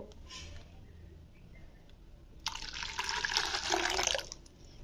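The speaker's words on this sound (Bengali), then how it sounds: "চলো এবারে আলুর জুস আর এই রাইস মিল্কটা আমি একসঙ্গে মিশিয়ে দেব।" Potato juice and rice milk being poured together into a container for homemade soap: a steady liquid pour starts midway and runs loud for about two seconds before tapering, with no talk.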